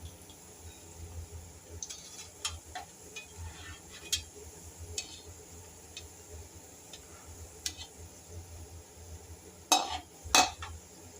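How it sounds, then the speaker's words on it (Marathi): Gulab jamun made from semolina and milk powder being stirred gently in hot oil over a low gas flame: soft scattered ticks and scrapes of a utensil against the pan, with two sharper clinks near the end and a faint sizzle. "एकदम हलक्या हाताने आपल्याला हे हलवायचं आहे. आणि गॅस आपला बारीकच असायला हवा."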